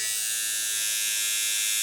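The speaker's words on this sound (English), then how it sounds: "As far as noise, here's the foil shaver side." A Philips Norelco Bodygroom 7000 body trimmer runs on its foil shaver side, giving a steady, bright, high-pitched electric buzz that stays constant and close with no voices.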